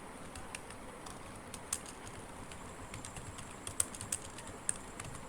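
Faint, scattered keyboard taps sound in an irregular rhythm over a low steady hiss as text is typed into a Microsoft Word document.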